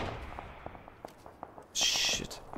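Video game gunfire crackles in rapid, scattered sharp shots at moderate distance, with a brief louder hissing burst partway through, over a faint background hum.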